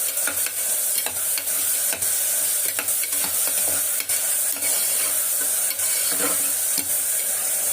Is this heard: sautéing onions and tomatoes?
yes